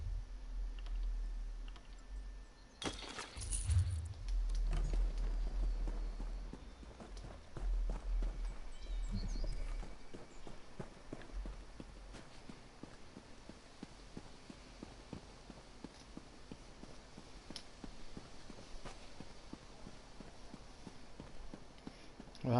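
Horse hooves clip-clop in a fantasy role-playing video game, a soft, regular stream of light hoof taps at a walking pace that runs faintly throughout, with a few louder thumps near the start.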